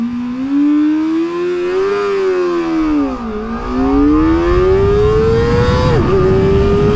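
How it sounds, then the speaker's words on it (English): A Kawasaki ZX4RR motorcycle at wide open throttle, its high-revving engine climbing steadily in pitch with quick-shifter upshifts briefly dipping the tone, loud and close throughout with no talking. "Just pin it wide open and use the quick shifter up."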